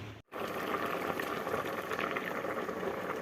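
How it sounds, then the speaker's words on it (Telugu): Pumpkin pieces with onion and tomato simmering in a pot on a gas stove for a traditional pumpkin stew: steady, close bubbling and hiss after a brief gap at the start. "టమాటా ముక్కలు వేసుకుని గ్యాస్ ఆన్ చేసి గుమ్మడికాయ ముక్కలు బాగా మెత్తగా అయ్యే వరకు ఉడికించుకోవాలి"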